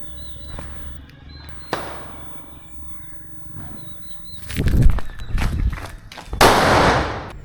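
Rooster-brand firecrackers set off during Diwali: a sharp crack, then a cluster of loud bursts and a final crackling blast, close by and outdoors.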